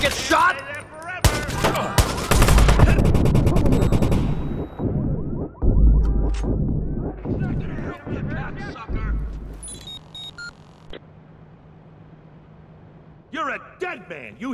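Loud bursts of rapid automatic gunfire and single shots in a Watch Dogs parking tower gang shootout, with echoing impacts and crashes, dying down toward the end. Voices shout over the firing.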